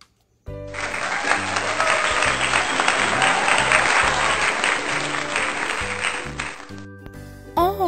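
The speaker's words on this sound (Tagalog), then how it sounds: "Ay, pumalakpak din sila ng malakas." Loud sustained clapping from a group of kindergarten children, dense and steady for about six seconds before cutting off, with a low tonal background underneath.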